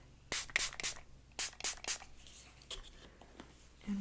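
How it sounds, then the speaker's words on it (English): Several short, hissing bursts from a spray bottle, irregularly spaced and close by, with quieter rubbing sounds between them. "I'm going to give it one last spray."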